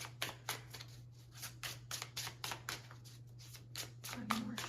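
Tarot cards are shuffled by hand in quick, soft riffling bursts over a low steady hum, faint and close, with a voice briefly heard near the end.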